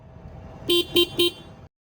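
Three quick, close honks of a TVS Ntorq 125 Race XP scooter horn sound over a low idling engine, then everything cuts to silence.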